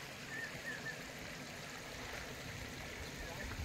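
Water pouring down Gandahati waterfall among surrounding hills, a constant broad rushing roar heard from nearby, steady from start to finish with faint voices mixed under it.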